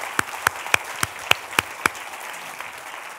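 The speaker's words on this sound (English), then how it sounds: "Please, an extra applause for him and to sponsor this idea." Sparse, slow clapping from a small audience at a talk, about seven distinct claps in an even rhythm that fade out, close and fairly crisp with no voices over them.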